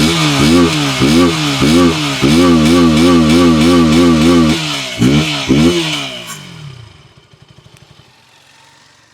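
A 2025 KTM Duke 160 motorcycle exhaust barks through a series of sharp, loud throttle blips and a sustained rev close by, then the engine is cut and the sound sputters away into quiet.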